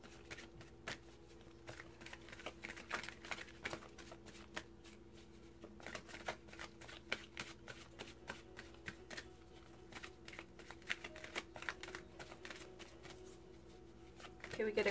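A deck of Gateway Oracle Cards is shuffled by hand close to the microphone, with quick, crisp riffling and tapping that keeps going steadily for the whole stretch.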